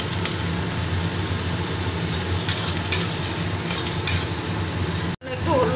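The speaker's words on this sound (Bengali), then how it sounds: "এবার কুচিয়ে রাখা আলুটা দিয়ে দিচ্ছি। আলুটা পেঁয়াজের সাথে এবার ভেজে নেব।" Chopped potatoes fry with onions in a pan, a dense rain-like sizzle with a few sharp stirring clicks that cuts out abruptly near the end before resuming.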